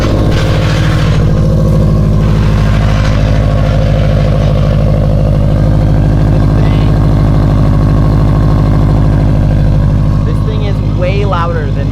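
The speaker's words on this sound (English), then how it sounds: "Catless downpipe and then just like a regular 3-inch exhaust" Subaru WRX engine rumbling loud and deep through a catless downpipe and 3-inch exhaust, a continuous close droning roar with voices talking over it.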